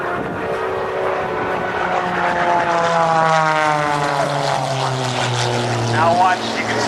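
Propeller-driven aerobatic airplanes performing at the Battle Creek airshow, a steady loud engine drone with rising and falling pitch sweeps as the planes roll and climb, continuous throughout.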